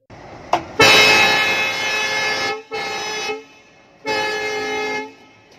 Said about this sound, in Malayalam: മണിക്കൂറിൽ പത്ത് കിലോമീറ്റർ വേഗത്തിലാണ് എഞ്ചിൻ ഓടിച്ചത്